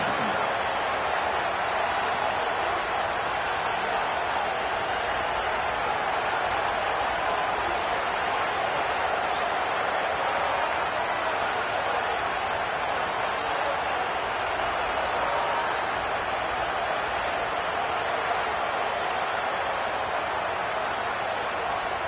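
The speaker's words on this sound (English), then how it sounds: "This crowd, full throat, spreading the eardrums and letting them know it's going to be a long day." Stadium crowd in a college football video game, a constant broad roar held at an even level throughout, with a commentator talking over it.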